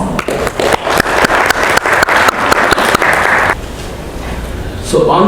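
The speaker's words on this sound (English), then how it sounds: "Please welcome him warm round of applause." An audience at a business conference roadshow applauds a speaker, with dense crowd clapping and a few loud nearby claps that stop abruptly, followed by a quiet pause and a voice starting.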